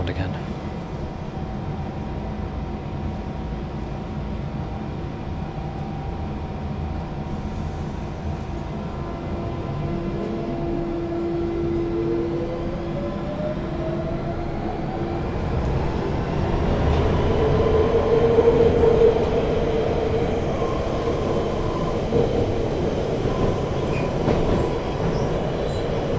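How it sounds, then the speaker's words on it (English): A London Underground Central line train rumbles steadily along, its motor whine rising in pitch as it speeds up, wheels and carriage noise loud and close throughout. "This is a central line train to Hainault via Newbury Park."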